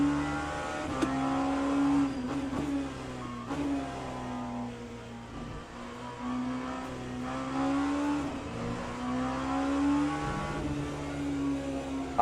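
LMP2 prototype race car engine in a racing video game at Spa, droning steadily with shifting pitch as it revs and changes gears, continuous and fairly close throughout.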